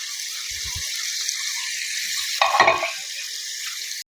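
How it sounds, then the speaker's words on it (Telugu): Chopped onions hit hot oil in a pressure cooker with a sudden burst of sizzling over a steady frying hiss, which continues evenly until it cuts off abruptly. "ముందుగా మనం తరుక్కు పెట్టుకున్న ఉల్లిపాయలు అనేది ఈ ఆయిల్లో యాడ్ చేసేయండి"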